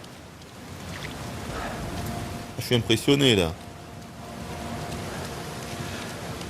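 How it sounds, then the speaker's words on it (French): Steady rain in a video game hisses throughout, and someone speaks briefly over it partway through. "la pluie est trop bien faite"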